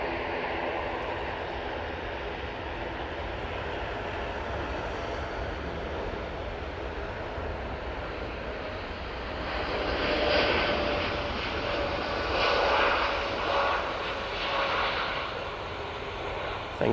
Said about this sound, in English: Ethiopian A350 coming in